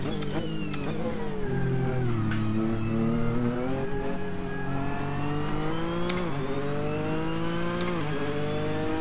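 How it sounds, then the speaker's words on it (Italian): Ford Focus RS MK2 engine revving hard under acceleration, a loud continuous rising whine climbing through gears with brief dips at each shift, close and dominant throughout. "La senti che progressione, guarda, non perde giri."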